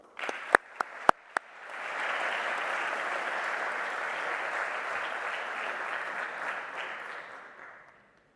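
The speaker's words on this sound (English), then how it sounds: "Please join me in giving her a warm round of applause as she shares with us her vision and expertise." Graduation ceremony audience breaks into a sustained round of applause after a few sharp isolated claps, the dense clapping swelling quickly, holding steady for several seconds and then tapering off, with no talking over it.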